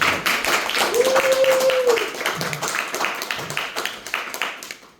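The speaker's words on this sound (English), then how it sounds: "Clap it up for my lady. Clap it up." An audience at a show in Enfield, Connecticut claps and cheers, with a voice calling out over the applause before it gradually thins out.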